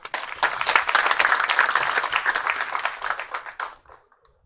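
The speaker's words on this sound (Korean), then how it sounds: "이철우 지사님을 큰 박수로 모시겠습니다." An audience at a Korean provincial government presentation gives a full round of applause to welcome the governor, steady and fairly loud for about three and a half seconds before it tapers off.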